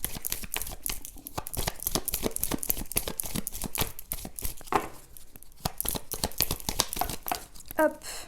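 A tarot card drawn from the deck during a reading: a dense run of quick papery flicks, slides and crinkles of cards being shuffled and handled up close, fairly soft, with a few louder snaps.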